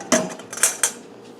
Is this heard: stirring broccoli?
yes